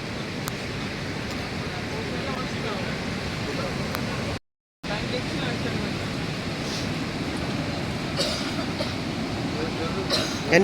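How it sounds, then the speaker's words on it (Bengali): Strong sea waves break close to a beach in a constant loud rushing roar, cut by a brief moment of silence partway through. "আর প্রচণ্ড ঢেউ আজকে, পুরো একদম কাছে চলে এসছে ঢেউ।"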